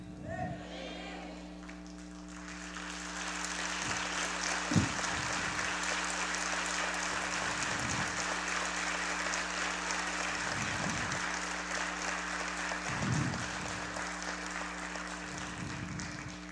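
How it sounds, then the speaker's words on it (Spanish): A church congregation applauds at length during a sermon, a continuous, fairly faint wash of clapping with a steady low hum beneath and occasional thumps. "Dejé que aplaudieran sin interrumpirles"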